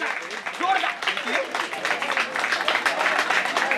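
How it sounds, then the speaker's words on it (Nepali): Applause from school students at a sports meet prize announcement for athletes, dense crowd clapping that swells and carries on steadily, with a voice speaking partly over it. "जोरदार ताली बजाएर खेलाडीलाई सम्मान व्यक्त गर्नको लागि म हार्दिक अनुरोध गर्दछु"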